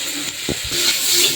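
Noodles with spice mix sizzle in a pan, a brief close burst of frying hiss with a couple of quick stirring scrapes.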